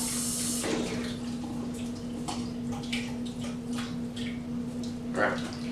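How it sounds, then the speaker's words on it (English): Tap water running over quinoa for a quick rinse, a steady soft splashing stream with scattered small clinks, close by and alone. "Real quick rinse."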